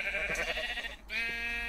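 Two sustained, wavering sheep bleats from Minecraft, played in the FTB Rustic Craft modpack, heard close and clear, one after the other with a brief dip between them.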